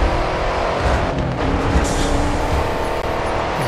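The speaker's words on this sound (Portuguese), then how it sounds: "Dodge Challenger tem uma potência gigantesca" Dodge Challenger race car roaring in the Grid 2 racing game, a loud continuous engine drone with rushing road and wind noise, steady at full throttle with brief shifts in pitch, no talk over it.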